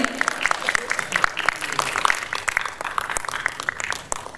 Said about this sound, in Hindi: निचरिका के लिए जोरदार तालियां हो जाए